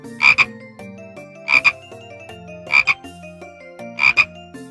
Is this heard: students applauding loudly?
no